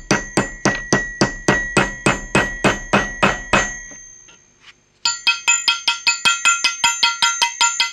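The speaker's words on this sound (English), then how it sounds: "Even if I take a hammer to it," Hammer striking an aluminium heatsink in a fast run of sharp, ringing metallic blows, about a dozen loud hits, then a short pause before a second quicker series of lighter, bell-like strikes.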